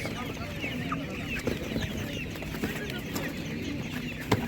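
Laying hens for sale at an animal market cluck and mutter in a busy, continuous chorus, with a few sharper squawks rising above the steady background bustle.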